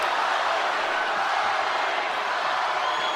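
An arena crowd roars in support of Holly Holm during a fight, a dense, continuous wall of cheering noise that stays loud and even throughout.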